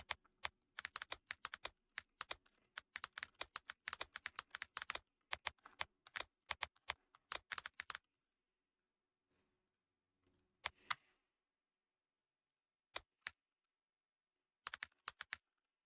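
A computer keyboard clatters in fast, close bursts of keystrokes while a comment is typed, then falls silent and resumes with a few scattered taps.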